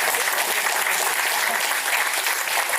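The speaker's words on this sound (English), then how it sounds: "Volunteers, claps for all the student volunteers." Audience at a day-two innovation and entrepreneurship workshop gives sustained, dense applause for student volunteers, loud and steady throughout with no talk over it.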